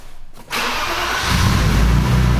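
A Nissan 350Z Rocket Bunny build fires up: a short silence, then the engine catches and settles into a loud, steady idle that swells slightly as it runs, with no voices.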